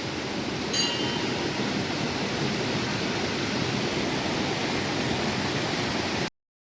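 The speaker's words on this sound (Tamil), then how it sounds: "நாலா பக்கமும் இது எல்லாம் அருவி மாதிரி தண்ணி ஊற்றுது." Water pours and splashes steadily at a temple, falling on every side like a waterfall, and the broad rushing wash stays constant and loud until it cuts off abruptly.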